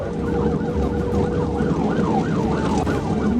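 A police siren during a high-speed chase of a motorcycle wails up and down repeatedly over steady road rumble, loud and close, with no voices.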